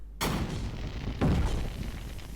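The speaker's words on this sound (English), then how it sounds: "that bad quality explosion sound" Two harsh, distorted booms burst out one after another, filling the sound with loud crackling noise that lingers after each blast.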